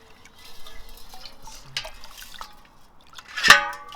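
Water sloshes and drips while a gold pan is rinsed out in a backyard, soft trickles building to one sharp splash near the end, with no talking.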